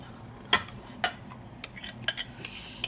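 Scraped-out baked potato goes into a pot of loaded baked potato soup, marked by a handful of sharp, separate metal clinks and taps of a utensil against the pot over a quiet background.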